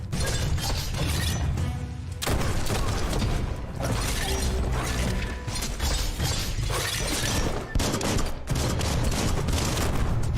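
Dense bursts of gunfire rattle in a Biomutant battle, a loud, near-continuous barrage of shots and impacts broken by a few short pauses.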